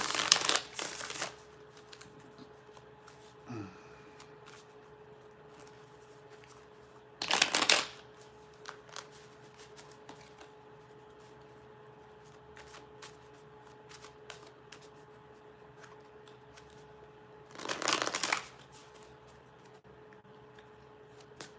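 Tarot cards being shuffled in a few short, crisp bursts separated by long quiet gaps, close and fairly soft.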